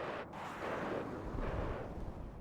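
Explosions and artillery-like rumble fill a WARNO real-time strategy battle as an Mi-24D helicopter is shot down, a dense continuous roar of distant blasts at moderate level.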